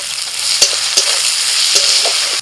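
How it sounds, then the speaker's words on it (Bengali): Chopped onion with salt sizzles in hot oil in a pan, a loud, steady hiss broken by a few sharp scrapes and knocks as it is stirred up close. "নাড়াচাড়া করতে করতে পেঁয়াজটাকে ভালো করে ভেজে নিতে হবে।"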